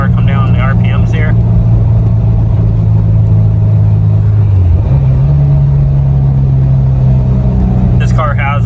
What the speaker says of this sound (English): So you'll see I'm just downshifting and letting the car come down in the RPMs here